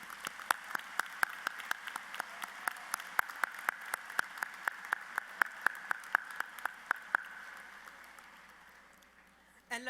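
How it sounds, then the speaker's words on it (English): Graduation audience at a Texas A&M International University fall commencement gives sparse, distant applause, individual claps spaced irregularly and fading toward the end, with no one speaking during it. "Go ahead and give them a round of applause for their efforts in supporting your dreams and ambitions."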